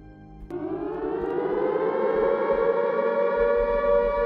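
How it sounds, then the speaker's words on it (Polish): A civil defense siren starts up and swells into a loud, sustained wail that rises slowly in pitch and holds steady. "Za okien dochodzi odgłos syreny alarmowej."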